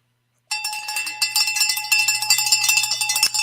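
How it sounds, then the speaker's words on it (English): A cowbell is struck repeatedly in celebration of a runner's weekly mileage during a run club livestream, a bright, ringing metallic clang in quick irregular hits that starts abruptly after a brief silence and carries on loudly. "Let's get a bell for that."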